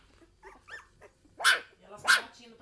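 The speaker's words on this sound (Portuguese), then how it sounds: "E elas estão latindo pra mãe delas." Young dogs bark in short sharp bursts, two loud close yaps standing out after softer whimpery sounds, with faint background noise.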